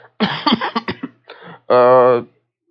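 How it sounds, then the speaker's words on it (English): Man coughing a couple of times during a role-play scene, close and loud: a run of rough bursts, then a drawn-out voiced throat sound. "He coughs a couple times."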